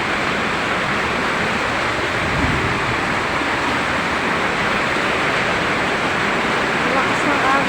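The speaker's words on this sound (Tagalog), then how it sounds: "Lakas ng agos." Floodwater rushes strongly during a heavy rainstorm, a dense, constant roar of churning water close by, even and unbroken for the whole stretch.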